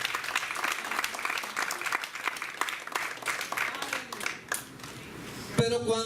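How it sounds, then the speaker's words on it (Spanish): A church congregation breaks into sustained applause for the Lord, a dense wash of clapping that holds steady for several seconds before fading, with a voice talking over it. "Un aplauso al Señor, no a mí, al Señor"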